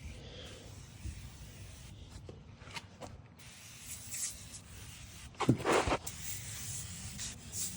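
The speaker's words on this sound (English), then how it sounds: "So I'm just taking this Super Clean, just foaming it down, letting that product sit in there and work." Super Clean degreaser foam sprayed onto lawn mower wheels in a few short hissing bursts, close and moderately loud over faint background noise.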